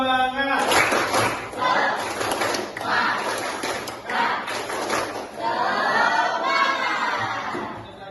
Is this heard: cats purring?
no